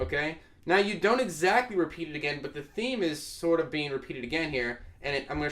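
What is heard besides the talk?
None of the usual background noises is heard.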